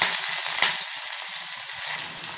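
Green chillies fry in hot tempering oil, a steady broadband sizzle that stays close and fairly loud for the whole stretch, with no voices over it.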